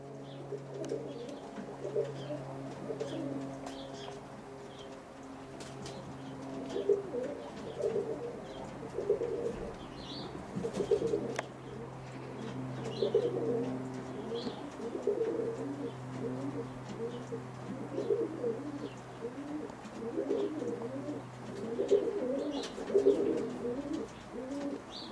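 Roller pigeons coo steadily in a loft in November, overlapping soft rolling calls repeating throughout over a constant low hum, fairly close and moderate in level with faint chirps in the background.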